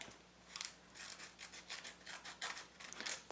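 Scissors cut a paper chopstick wrapper from a sushi outing: quiet, close snips and slicing strokes in quick succession, with no voices.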